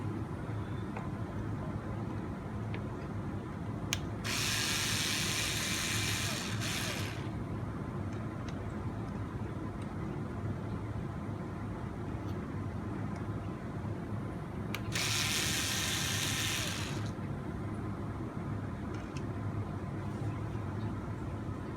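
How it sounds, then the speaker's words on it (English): Hand driver backing out small screws from the rear axle ends of a CR12 RC 4x4 crawler, close ratcheting and scraping bursts over a steady background hum, with two harsher grinding passes and no talking. "With our rounded driver, again, we can remove these two screws that hold on the straight axle ends of the rear axle."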